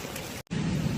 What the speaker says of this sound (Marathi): हे बघा, आता पाऊस चालू झालो